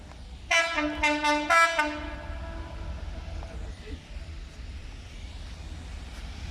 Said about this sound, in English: Nice little 3-tone. Hey, it's a railhead treatment train.